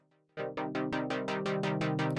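A sawtooth LFO sweeps the filter of an FL Studio synth in a fast, repeating pulse of about eight sharp cyclic swells, each snapping open and then falling, after a brief quiet tone at the start.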